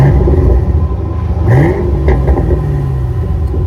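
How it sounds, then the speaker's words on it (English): A 2010 Ford Mustang GT convertible with about 45,000 km revs up, its loud close exhaust rumbling and gurgling as the engine climbs through a short blip and settles back to a deep idle. "So it does have an aggressive rumble gurgle."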